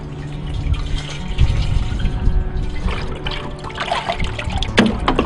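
Water pours and trickles steadily into an AquaPail emergency water filter bucket outdoors, with grass clippings mixed in, a continuous close splashing flow with small surges and drips throughout.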